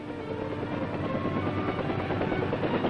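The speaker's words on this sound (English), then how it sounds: "Helicopters of the U.S. Army 13th Aviation Battalion provide direct air support" A U.S. Army military helicopter's steady, throbbing rotor roar fills the air continuously, loud and close, with no pauses.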